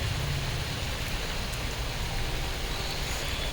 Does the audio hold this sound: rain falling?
yes